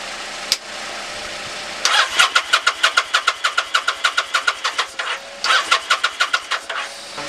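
A 1999 Kawasaki Vulcan motorcycle engine being started: a click, then two rapid bursts of rhythmic starter cranking with a brief pause between them, loud and close.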